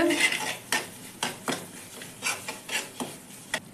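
Spoon stirring and scraping a semolina barfi mixture in a metal pot, a series of close, sharp scrapes and clinks at an uneven rhythm.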